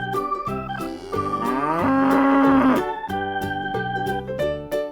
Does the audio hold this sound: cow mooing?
yes